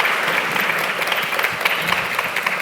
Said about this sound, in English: Can you please give them a Warm round of applause.